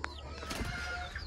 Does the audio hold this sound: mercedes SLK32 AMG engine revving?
no